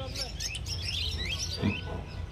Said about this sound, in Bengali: এখানে দেখতে পাচ্ছেন বেশ কিছু অ্যাডাল্ট বদ্রি আছে